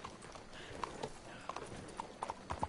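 Horse hooves clip-clop steadily through a few strides in the game Red Dead Redemption 2, moderately close and clear, with faint ambient background and no talk over them.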